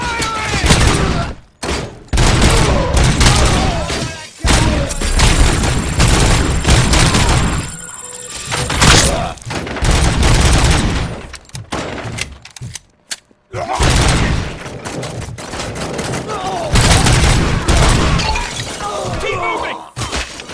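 Dense gunfire rips through a RoboCop: Rogue City firefight, loud sustained bursts with shattering impacts and booms, broken by short pauses, while voices shout over the shooting.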